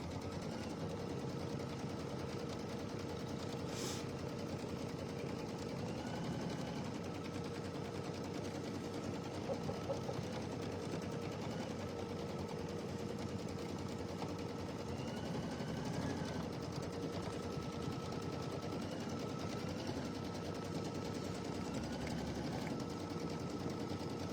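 Embroidery sewing machine tacking applique fabric in place, a steady rapid mechanical stitching hum running continuously and close for the whole stretch, with no talking.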